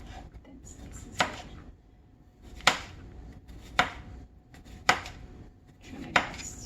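A knife cuts thin slices of beef on a board, five sharp, distinct chops spaced about a second apart with quiet handling between them, close and clear.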